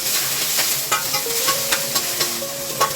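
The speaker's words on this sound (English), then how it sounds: "Sauté green onion." Green onion sautéing in olive oil in a wok, a steady close sizzle with repeated spatula scrapes and taps in an irregular rhythm.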